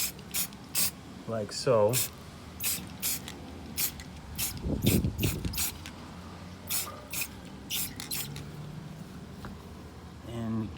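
Short hissing bursts of spray paint go onto a Halloween insect eye prop, repeated many times in quick spurts, with a person speaking briefly between them.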